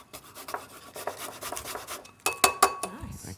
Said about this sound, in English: And we've got some beautiful fresh ginger here to grate in there.